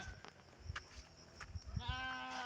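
A goat bleats a few times close by outdoors as it is moved to a new spot, the calls short and nasal, the last one a drawn-out wavering bleat, with faint background noise and no talk.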